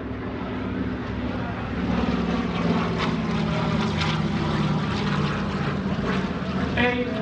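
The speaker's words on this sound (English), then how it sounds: "Joined up now by the Douglas C-47." A Douglas C-47 propeller warbird flies at an airshow, its steady, droning engine roar filling the clip at constant strength while an announcer talks over it.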